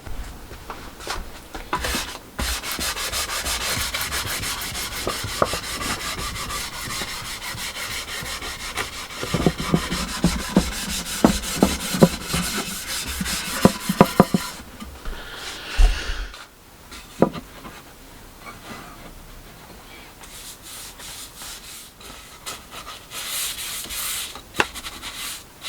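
Steady close rubbing and scuffing as Danish oil is worked by hand into a wooden loco storage box, continuous strokes with a few sharper knocks midway, then softer lighter rubbing toward the end.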